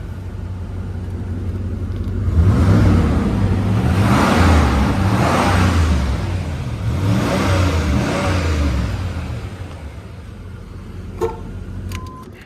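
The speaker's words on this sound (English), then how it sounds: "Nothing fancy with the exhaust on this car." A 1987 Chevy Monte Carlo SS with a plain stock exhaust revs repeatedly, deep rumbling pulls that rise and fall three times, heard close from outside, settling back to a steady idle.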